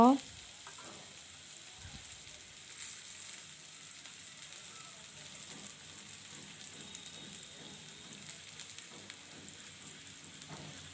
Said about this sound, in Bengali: পেঁয়াজটা একটু বাদামি রং করে ভেজে নিব।